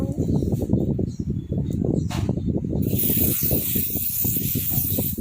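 A spray bottle is pumped in a run of quick, even bursts of hiss, close and fairly loud, with a steadier airy rush toward the end and no voices.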